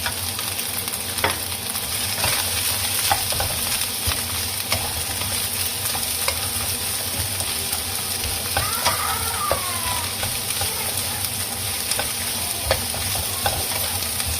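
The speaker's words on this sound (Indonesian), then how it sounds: "Kita masukkan bawang bombay, daun bawang sama bunga bintangnya tadi ya, kita tumis sampai wangi." Onion, scallion and star anise stir-fry in hot oil for a Taiwanese-style beef noodle seasoning, producing a steady loud sizzle throughout with occasional scraping stirs.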